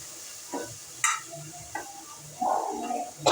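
Squeezed tamarind juice poured into a hot frying pan, giving scattered stirring clinks and then a brief burst of close sizzling.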